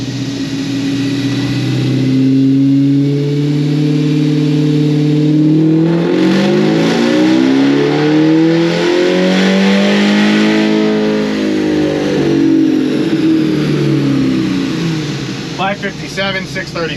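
An LT4-powered C10 pickup revs hard on a dyno, its engine note climbing and falling through a long pull, loud and close, with sweeping harmonic tones and a brief rattling burst at the end.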